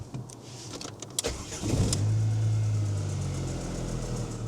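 A few clicks and a starter crank, then a low-mileage Rover 75's engine catches and settles into a steady low idle nearby.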